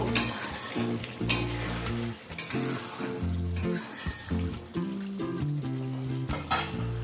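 Chicken kosha in a pan on medium-high flame is stirred with repeated spatula scrapes and clinks of metal on metal over a continuous sizzle, busy and close, with no voices.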